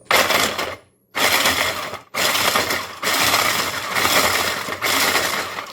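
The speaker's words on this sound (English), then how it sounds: "put the basil and the walnuts into a little food processor and to just pulse them" A small food processor pulses basil leaves and walnuts in several loud, whirring bursts of about a second each, with short stops between them and no talking.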